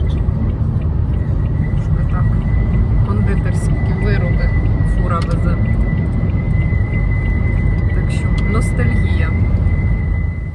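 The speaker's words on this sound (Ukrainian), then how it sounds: "ось ці стійки, підставки під багажник, і саме вони ось так вібрують і свистять, коли їдеш" A thin, steady whistle from vibrating roof rack bars sings continuously above loud road and engine rumble inside a moving car.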